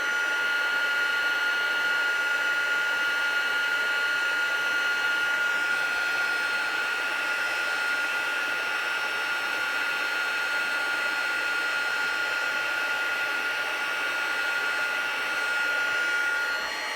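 An embossing heat tool warming a card, a continuous close whirring blower hum with a steady high whine, holding level for the whole stretch with no talking.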